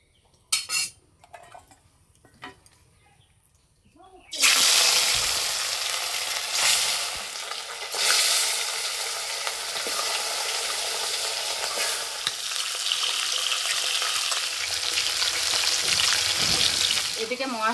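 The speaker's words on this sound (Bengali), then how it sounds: "প্রথমে মাছ ভেজে নেব।" Katla fish pieces fry in hot mustard oil in a kadai, a loud steady sizzle that bursts in after a few quiet seconds of faint handling clicks and runs on with occasional scrapes and pops.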